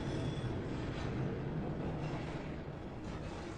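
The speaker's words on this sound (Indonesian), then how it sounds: "Ivy menarik tuas kereta dan Eric membiarkannya. Kereta pun meluncur." A film train begins rolling after a lever is pulled, giving a steady, dense rumble of wheels and carriage noise that holds evenly throughout with no voices.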